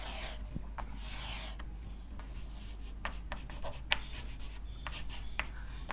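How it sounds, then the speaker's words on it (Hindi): Chalk or marker strokes on a classroom board during a physics lesson, a steady run of short scratching and rubbing strokes at close range over low background hum, with no talking. "मैं यहां लिख देता हूं"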